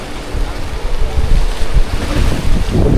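Ocean waves wash onto a beach in Kannur, a steady surf mixed with heavy wind buffeting the microphone, swells rising and falling with a louder surge near the end.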